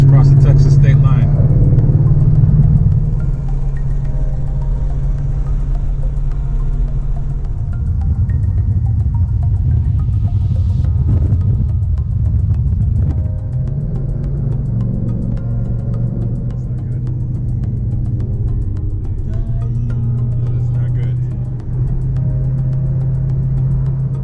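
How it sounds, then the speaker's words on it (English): Car cruising on a highway across Texas, a continuous loud low road rumble and engine drone heard from inside, with small surges in level and people talking over it. "We've been driving across Texas."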